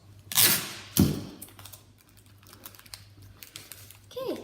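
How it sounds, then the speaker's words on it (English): Tape being pulled and wrapped around a homemade rubber band gun built from a fidget spinner, giving two loud ripping tears followed by softer crinkling and rustling up close. "Make sure to apply lots of tape, and I mean a lot."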